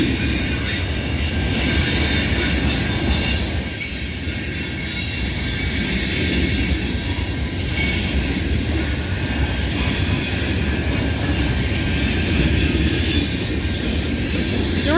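A CN freight train heading to Sarnia, Ontario rolls past at night, a steady close rumble of railcars with wheel squeal and faint clickety-clack sustained throughout.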